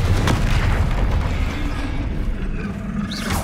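A Confringo blasting spell in Hogwarts Legacy erupts into a heavy, rumbling boom with a rolling low-end tail that fills the whole stretch, dense and loud with no clear break.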